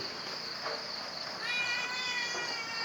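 A cat meows amid steady rain at a Buddhist temple site in the morning, its faint harmonic call rising briefly over a dense wash of rain and insect-like hiss, with no talking.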